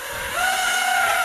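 Motors of an Eachine Racer 180 tilt rotor FPV drone whining with a steady high-pitched tone that rises slightly in pitch and loudness, close and continuous with no talk.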